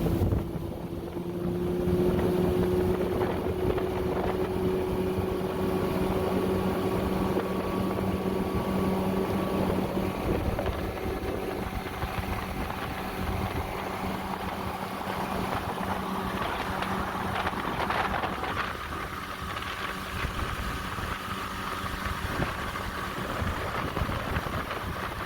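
A Tracker Grizzly jon boat's engine drones steadily while cruising, with rushing wind buffeting the microphone and water noise throughout, the engine pitch shifting gradually.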